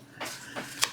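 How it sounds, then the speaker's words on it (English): Tarot cards being shuffled by hand, a few quiet soft riffles and flicks with a sharper snap near the end. "I gotta shuffle again because that's a duplicate card."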